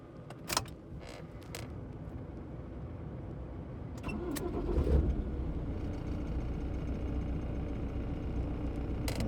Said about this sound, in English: I'm going to quickly start the van with the with everything hooked up here